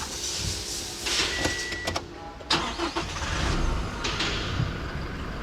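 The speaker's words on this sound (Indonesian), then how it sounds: "kalian harus banget dengerin suara mesinnya" A Toyota Kijang Innova G diesel engine running close by: a steady, broad rumble with occasional sharp clicks and thumps layered over it.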